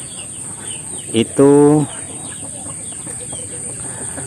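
Free-range village chickens on a traditional farm give a short burst of clucking, one loud call rising briefly over a quiet outdoor background with a steady high hum and brief speech.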